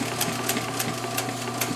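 A Singer 111W needle feed industrial sewing machine runs slowly, its needle striking in a regular, evenly spaced clatter over a steady motor hum, close and alone.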